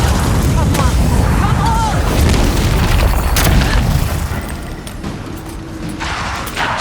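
Loud, dense booms and bursts from grenade explosions in the fantasy video game Avowed, rumbling continuously under combat noise.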